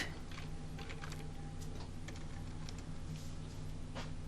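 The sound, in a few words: typing on a computer keyboard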